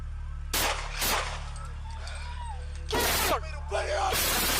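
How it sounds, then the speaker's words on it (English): A police officer fires gunshots inside a McDonald's, giving several loud, sharp bursts spaced apart over a low steady hum, with faint sounds in between. "Officer Wendy unloads 2 bullets into Mr. Franklin, dropping him to the floor."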